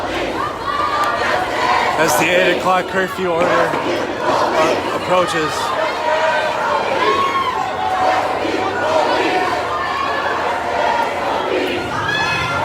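Protest march crowd walking along the I-35W highway in Minneapolis in the early evening, a loud, dense mass of voices with rhythmic chanting and shouting rising and falling throughout, while a nearby voice talks over it.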